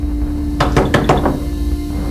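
Several sharp knocks on a wooden door in a tense home drama scene, about five quick raps in a burst over a steady low hum, with no talk during the knocking.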